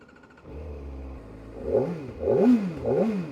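A Kawasaki ZX-4RR sport bike's engine rises in a few quick rev swells after a low idle, each surge climbing and falling in pitch, moderately loud and up close.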